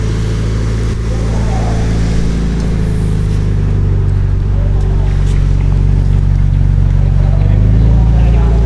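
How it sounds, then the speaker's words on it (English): A car's engine starts and runs at a steady idle at a Japanese auto auction, a low continuous rumble close by, with a person talking over it. "So the engine starts."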